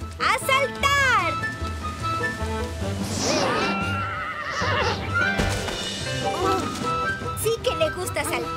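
A horse neighs and whinnies loudly and close by just before a jump, its strained, wavering cries rising and falling several times. Thuds and rustling come between the calls.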